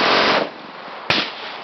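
A Kriss Vector submachine gun fires a loud, fast full-auto burst outdoors that cuts off sharply, followed by one more sharp report about a second later.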